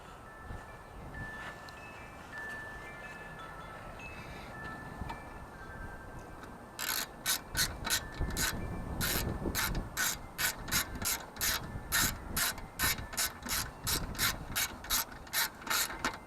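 A ratchet tightens the shouldered 8mm bolt holding the dipstick tube on a Toro Recycler lawn mower, a quick run of sharp, evenly spaced clicks up close that starts partway in and keeps a steady rhythm to the end.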